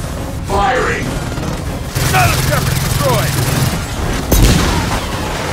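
Gunfire in the Gears of War 4 video game: sustained rapid bursts and one heavier thump run under game voices, loud and continuous through most of the clip.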